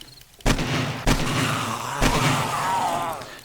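On an insane-difficulty horde night in 7 Days to Die, three heavy gunshots ring out at roughly half-second to one-second intervals, each loud and booming with a long rolling echo.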